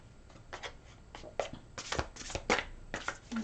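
Tarot or angel cards shuffled close up in quick, papery bursts that riffle and slap, fairly quiet.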